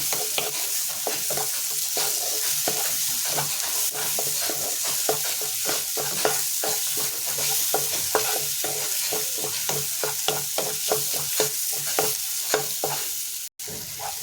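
Masala with coriander leaves is stir-fried for a kalia, a continuous sizzle broken by rhythmic, repeated spatula scrapes and clacks against the pan, close and fairly loud with no talking.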